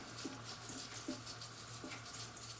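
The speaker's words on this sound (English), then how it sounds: "I added 1 cup of water" A cup of water pours into an Instant Pot holding a whole skinless chicken, a steady close trickling gush lasting the whole moment, fairly quiet, with no talk.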